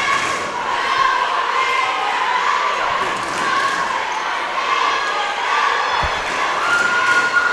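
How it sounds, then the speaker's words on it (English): A loud crowd at an evening high school basketball game with many Hutchinson fans roars and cheers steadily, with a ball bounce and scattered shouts mixed in and a commentator's voice faintly underneath. "crowd's very loud tonight."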